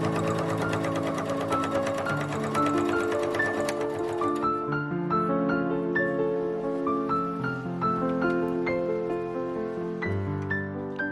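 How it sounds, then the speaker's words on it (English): A sewing machine topstitches a dress collar for an Art Nouveau bodice, running in a steady, rapid mechanical rhythm that stays loud and close, with a slight change in tempo partway through and no talking. "I then top stitched the collar."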